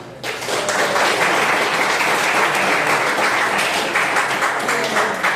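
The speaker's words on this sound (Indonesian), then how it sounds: "Oke, tepuk tangan." A class of students applauding in a lesson on computational thinking, dense loud clapping that starts abruptly and holds steady and close for several seconds.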